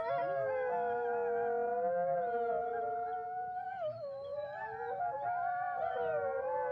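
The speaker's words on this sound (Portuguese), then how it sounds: "esses sons de lobos, ou filhote, ou matilha, uivando" Wolf pups howl together as a layered, wavering chorus of high, sustained cries that rise and bend against each other, loud and unbroken, a suspense-film sound effect with no voices.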